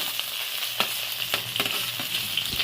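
Vegetables frying separately in a pan for a bitter mixed-vegetable dish, a continuous bright sizzle with occasional stirring clicks and scrapes, close and alone.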